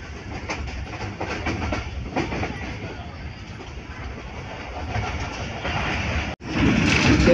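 Wheels of a moving passenger train on the way from a village to Karachi give a steady rattle with rhythmic clickety-clack on the rails, heard from inside the train at moderate loudness with a brief dropout near the end.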